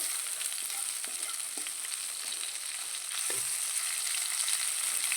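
Mackerel frying in a pan, a steady close sizzle of hot oil running the whole time with a few faint clicks and light scrapes of a utensil, no voices.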